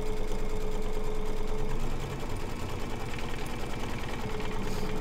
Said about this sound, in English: let's stitch this baby down